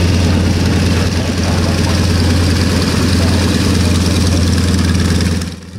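Radial engine of a Chinese CJ-6 Nanchang trainer aircraft at Omaka airfield, a steady loud droning rumble with a strong low throb that holds for several seconds, then eases off at the very end, with no talk.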